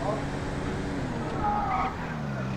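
A stolen, damaged police cruiser drives in a roleplay video game, its engine droning beside a brief tire squeal, with players talking over it.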